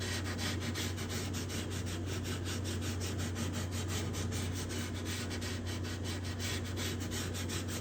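Sandpaper of 150 grit rubbing back and forth across a guitar's spruce top, a steady, close, continuous scratchy rasp with a regular stroke rhythm throughout, no voices.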